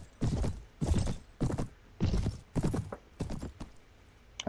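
Horse hooves clip-clopping in the Mount & Blade Warband video game, a steady walking rhythm of about seven distinct thudding steps, moderately close and heard alone.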